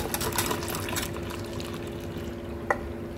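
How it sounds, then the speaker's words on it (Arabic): Two cups of water are poured onto dissolved jelly for a milk pudding dessert, making a soft, close splash and trickle at first that fades to a quieter wash, with one small clink near the end. "انزل عليه بقى بكوبايتين الميه التانيين"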